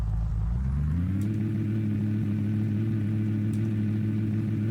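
A car in a Minecraft car mod produces a steady, loud, low engine drone that dips slightly at the start, then holds an even rumble with no talking.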